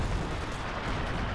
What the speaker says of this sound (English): Got assault artillery on this vital cut-off here.